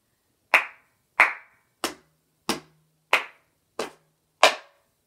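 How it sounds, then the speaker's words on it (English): Hands clap and tap on a cup in a cup-rhythm routine, seven sharp, evenly spaced strikes about half a second apart, close and crisp with silence between them. "The first move is we clap, clap, tap, tap, clap."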